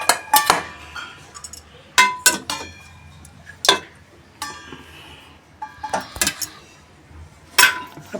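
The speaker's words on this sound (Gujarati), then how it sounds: "હવે આપણે કુકર ખોલીશું." A pressure cooker being opened after cooking dal and rice: sharp metallic clanks and clinks of the lid and pot come in irregular bursts, close and loud, with quiet gaps between.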